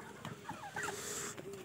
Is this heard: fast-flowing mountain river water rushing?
no